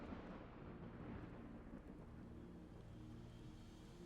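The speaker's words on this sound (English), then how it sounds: "And now it's raining." Steady rain and low rumbling thunder in a Final Fantasy XIV game scene, a continuous dense wash of noise at a fairly quiet level with no talking.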